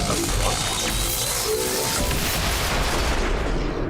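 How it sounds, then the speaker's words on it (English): Loud, dense bursts of explosions and gunfire roar continuously from an XCOM 2 battle, a wall of booming blasts and crackling fire with no pauses, close and heavy throughout. "More explosions."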